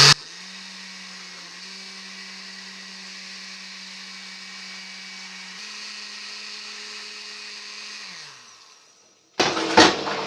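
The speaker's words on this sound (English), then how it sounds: "So that's gonna blend right now." A kitchen blender whirs steadily while blending Jamaican banana porridge, a continuous motor drone that shifts pitch slightly partway through, then winds down and stops, followed by a brief clatter at the end.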